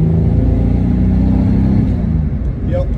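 A 1963 Jaguar Mark 2 with a CMC high-torque 4.2 engine conversion pulls strongly on the open road, a loud, steady low engine drone with road rumble filling the whole stretch.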